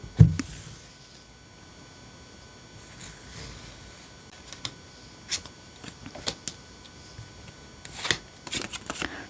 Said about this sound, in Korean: 카드 뽑아보도록 할게요